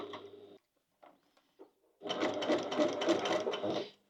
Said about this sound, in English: we're just going to sew close to the rectangle